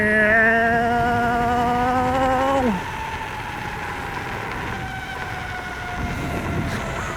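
A Lunacycle Ludacris Apocalypse 3000W electric scooter motor whines upward in a rising, steady tone as it accelerates, then cuts back to a lower hum under wind and road rush, close and loud.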